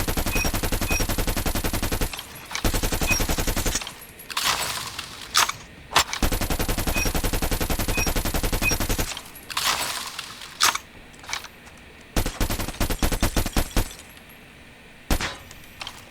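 The Krig 6 assault rifle in Call of Duty fires long, loud automatic bursts with short pauses and a few quicker follow-up volleys, some with glassy impact crackles, and no talking.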